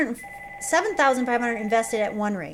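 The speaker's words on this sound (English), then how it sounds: "Sorry about the phone. We'll just let that ring." A telephone bell rings steadily for a moment, then keeps going faintly beneath a teacher talking through an algebra lesson.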